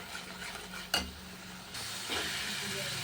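Onion paste, garlic and ginger frying in ghee with cardamom, cinnamon and cloves, a soft close sizzle broken by a brief scrape of stirring, with the hiss rising louder toward the end.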